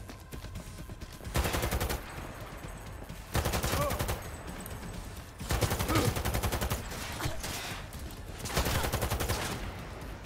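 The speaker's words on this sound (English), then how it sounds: "Keep firing, goddammit!" Bursts of automatic gunfire in the video game Cyberpunk 2077, loud and sustained in several roughly two-second volleys with pauses between, a brief voice exclaiming once.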